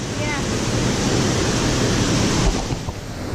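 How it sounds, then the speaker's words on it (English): Small waterfall in Costa Rica, a steady broadband rush of falling water that stays loud and constant throughout, with no clear talking over it. "This is a beautiful little waterfall."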